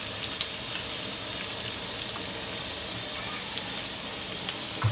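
Potato pieces and onions fry in oil in a pan for chicken pulao, a steady dense sizzle with a few small pops, continuous and fairly close throughout.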